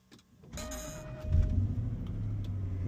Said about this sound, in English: let's take it out for a drive